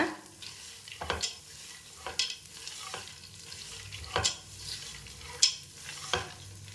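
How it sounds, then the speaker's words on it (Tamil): Puffed rice pori being roasted and stirred in a pan as an evening snack, soft dry rustling with repeated louder scrapes of a spatula against the pan at irregular intervals. "நல்லா ஓரளவுக்கு வறுத்துக்கோங்க."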